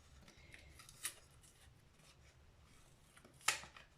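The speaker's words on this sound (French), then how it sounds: "Alors, je prends des ciseaux." Scissors snip open a small 20-centilitre carton of cream in a kitchen, with two sharp, brief cuts about two seconds apart against quiet rustling.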